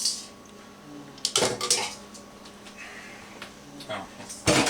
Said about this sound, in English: so I'm going to take my lid off. I'm going to throw my vegetables in here.